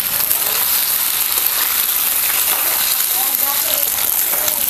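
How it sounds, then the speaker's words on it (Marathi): Leftover cooked rice mixture stir-fried in hot oil gives a steady, close broadband sizzle with faint scraping of stirring, continuous throughout at even loudness. "असं तेलामध्ये सगळं एकजीव करून घ्यायचं"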